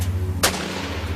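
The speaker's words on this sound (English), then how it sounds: "a flurry of panicked gunfire breaks out between the Marshals and the boys" A single loud gunshot bursts out during a shootout between US Marshals and a family at Ruby Ridge, sharp and close over a steady low hum.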